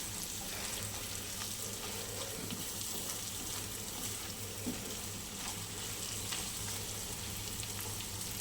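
Fish oil frying in a pan with brinjal, a steady low sizzle running throughout with a constant hum underneath, moderately quiet and close, no voices.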